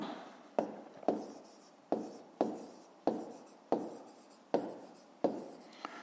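Handwriting on paper in a math exercise, a series of about nine crisp pen taps, each trailing into a short scratching stroke, close, quiet and evenly spaced with no talk.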